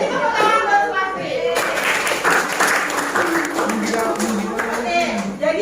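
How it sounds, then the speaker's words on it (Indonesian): A classroom of students claps for a classmate, a dense burst of applause lasting several seconds at close range. "Beri tepuk tangan buat Supasti"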